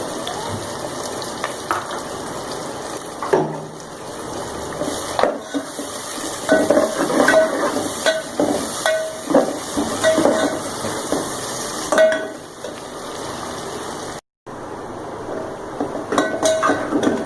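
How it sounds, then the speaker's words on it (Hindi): Two sliced onions hit hot oil in a pan and sizzle steadily, broken by clinks and scrapes of a utensil stirring, with a brief silent gap near the end. "अब पैन में ऐड कर देंगे अनियंस। 2 अदद स्लाइस किया हुआ प्याज है ये।"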